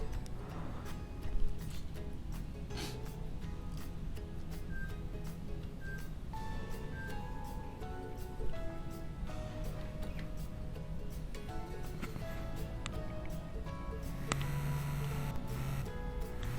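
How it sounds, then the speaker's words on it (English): An LG Craft Ice maker motor trying to harvest ice: a steady mechanical hum runs throughout, with scattered faint clicks and ticks over it. It is moderately quiet, with no voices. "the ice maker is trying to harvest"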